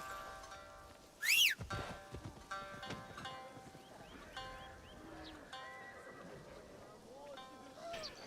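Horse neighing in the video game Assassin's Creed Shadows, a short loud whinny near the start followed by quieter game ambience and a voice talking over it.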